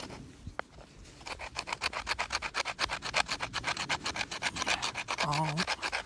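The spine of a knife scrapes fatwood, raking off shavings in a fast, steady rhythm of rasping strokes after a couple of initial taps; close and clear, with no talk.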